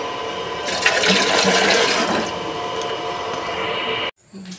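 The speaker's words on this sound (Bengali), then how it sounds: "এই যে এবার ফিল্টার থেকে একটু জল ভরে নেবো বন্ধুরা" Water runs from a household water filter into a container, a steady splashing pour that swells for a couple of seconds, then settles into a softer trickle before cutting off abruptly.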